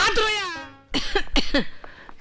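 A voiced, drawn-out sound is followed by a few short, harsh coughs, close and fairly loud.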